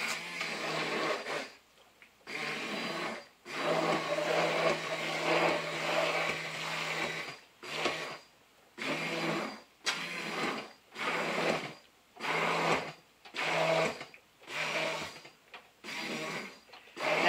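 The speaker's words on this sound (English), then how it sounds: "use your stick immersion blender" A stick immersion blender whirs through thick apple butter in repeated bursts of about a second each, separated by short pauses, with a steady motor hum and a gritty churning texture close by.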